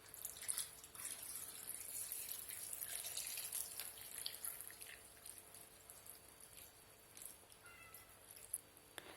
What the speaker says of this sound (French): Alors maintenant je rajoute le vin, un demi-litre de vin.